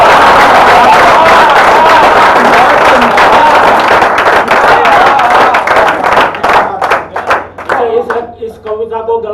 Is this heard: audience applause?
yes